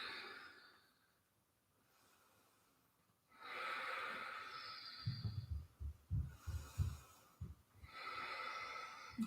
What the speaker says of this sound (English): A few deep breaths.